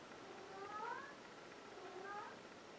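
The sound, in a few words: cat meowing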